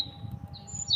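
Cartoon birds chirping: a few brief, bright high-pitched chirps, close and clear over a soft low background hum.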